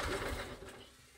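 A Honda lawn tractor engine cranks close by but fails to catch, giving a rough mechanical churn that fades within about a second.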